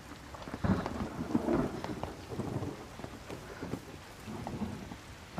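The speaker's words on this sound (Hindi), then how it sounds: "अचानक से बारिश आ गई।" Sudden rain pouring down, a steady dense hiss with rumbling thunder swelling and fading throughout, moderately loud and continuous, with no voices.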